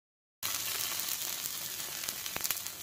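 Ghee tadka for raita sizzles in a pan, bursting in suddenly after a moment of silence, then a loud, steady frying hiss with small crackles and pops.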